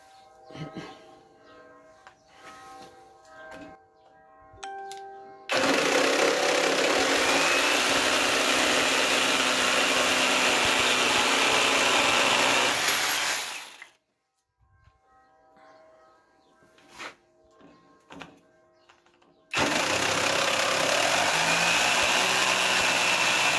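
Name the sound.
cordless jigsaw cutting wood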